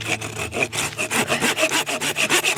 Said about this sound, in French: Je vous assure que couper du bois avec cette petite scie, c'est pas de tout repos.